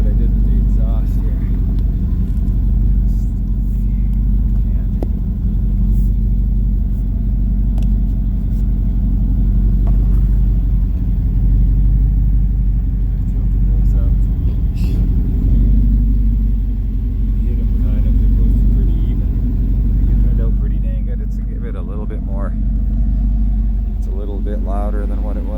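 A Pontiac Trans Am with a modified exhaust rumbles and idles with a deep, steady low drone, occasionally revving, close by while someone talks over it.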